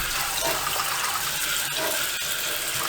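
Tap water runs in a steady, loud gush over organic apples being washed at a sink, continuous for a few seconds before cutting off abruptly.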